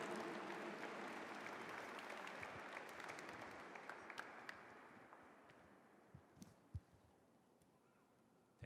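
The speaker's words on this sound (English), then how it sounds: "Give him a big round of applause." Dense crowd applause at a Filipino American History Month celebration, steady and loud at first, then gradually thinning and fading, with a few scattered individual claps toward the end.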